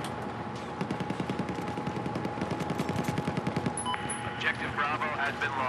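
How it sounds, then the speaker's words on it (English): Rapid bursts of automatic gunfire in Battlefield 4 rattle steadily through the clip, mixed with other battle noise, and someone talks over the shooting. "I've been shooting at him."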